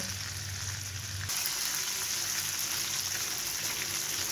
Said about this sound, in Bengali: আমি ভালো করে ভেজে নিচ্ছি মাছের মাথাটা